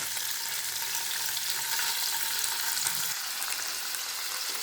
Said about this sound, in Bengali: এখন এগুলো তেলের মধ্যে ভেজে নিচ্ছি।